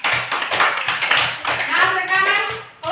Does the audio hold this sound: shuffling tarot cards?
no